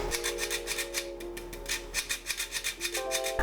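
Chocolate sponge cake batter being mixed after the last of the dry ingredients go in, a steady rhythmic scraping and rubbing of a utensil through thick batter in a bowl, close and moderately loud with no talk.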